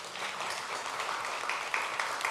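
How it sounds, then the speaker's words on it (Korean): Steady applause from a church congregation during a Sunday worship service, a dense, continuous wash of many hands clapping at moderate distance for a couple of seconds, with no talk over it. "우리 박수 한번 쳐주실래요?"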